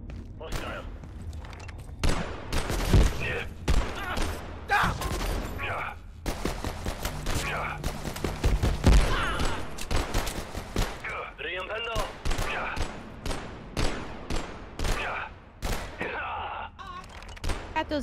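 Soldiers in the video game Abiotic Factor firing guns, with repeated bursts of loud gunfire and sharp shots across the scene while a player talks over the action.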